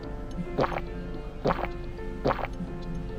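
Water is poured into a glass at a Tokyo ramen shop: three short, distinct liquid splashes spaced about a second apart over a faint room background.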